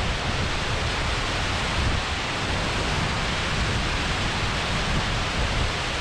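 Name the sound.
water rushing over Lintrathen Reservoir wall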